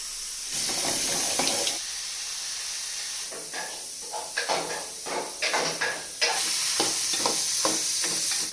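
Tomato chutney cooks in a hot pan, giving a loud, steady hiss and sizzle broken by repeated quick scraping stirs of a spoon; the sizzle drops back briefly between bursts.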